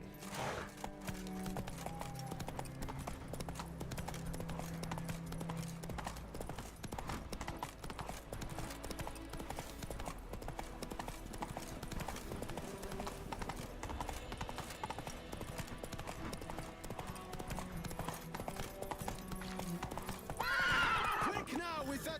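In the video game The Witcher 3, a horse gallops with rapid rhythmic hoofbeats and neighs loudly near the end, while people talk over it and faint background music plays.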